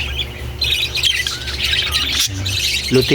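Several parakeets squawk and chirp almost nonstop in a homemade flight cage, a loud chattering flock close by with sharp repeated calls and no talking.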